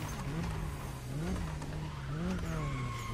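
A car in The Crew Motorfest racing game brakes into a turn, its engine tone dipping and rising while tires squeal faintly; the game audio sits fairly quiet and steady without speech.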